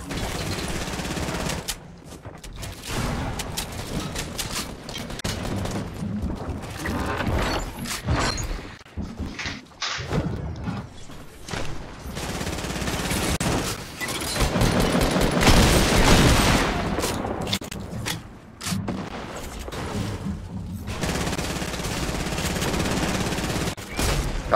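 Turret gunfire in the video game Food Fight: dense, sustained bursts of rapid shots that roll on almost without pause for the whole stretch, loud and close, with a few brief lulls between volleys.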